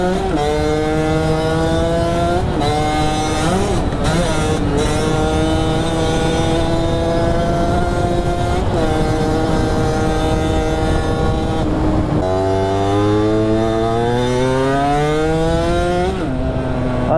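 A Sherco motorcycle engine runs close by with a steady, buzzy tone, rising and falling through several revs and shifts of pitch over a continuous drone.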